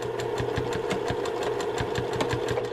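A sewing machine stitches fabric at a fast, even rhythm, its needle clicks repeating rapidly over a steady motor whir, close and moderately loud.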